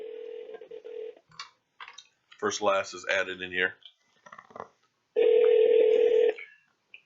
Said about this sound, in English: I'm going to try and call you guys.